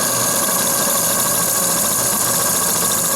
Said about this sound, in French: Regardez, j'accélère. La machine prend des tours.